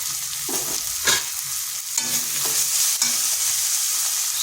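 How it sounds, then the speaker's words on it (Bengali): Ground turmeric, cumin, coriander and chili powder sauté in a pan with a splash of water, a close, steady sizzle broken by repeated scraping strokes of a spatula stirring the spice paste. "সামান্য একটু জল। মশলাটা ভালো করে কষিয়ে নিচ্ছি।"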